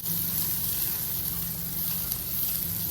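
Butter sizzling in a hot pan on a home stovetop, a steady close frying hiss with a faint low hum underneath and no talk.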